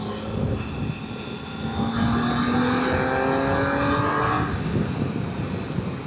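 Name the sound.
800cc superbike engine and exhaust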